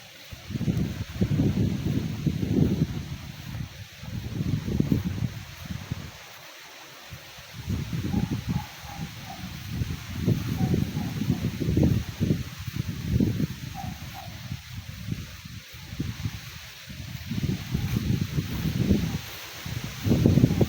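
Gusts of wind surge and fade through trees in an eco park, rustling leaves in waves with brief lulls, buffeting the microphone at times.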